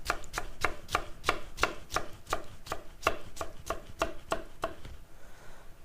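Steady chopping of cucumber with a chef's knife on a board for relish, about a dozen crisp, evenly spaced knife strikes close by, quickening slightly before stopping near the end.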